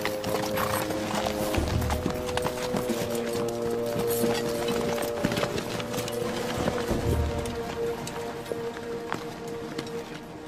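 Steady clip-clopping of horse hooves at a trotting pace, fairly close, over a constant low rumble with some faint background voices.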